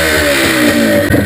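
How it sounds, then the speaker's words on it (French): A two-stroke motorcycle engine, a 200, revs loudly and close up, its buzzy, rasping drone holding steady and then rising briefly at the end. "Un petit bruit de deux temps."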